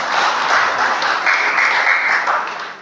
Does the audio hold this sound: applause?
yes